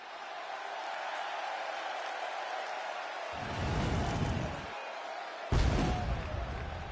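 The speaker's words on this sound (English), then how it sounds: "The crowd welcomes a woman who's battled back for moments like this." Wrestling arena crowd in WWE 2K26, a steady wash of cheering with two louder swells of noise, the second rising abruptly near the end.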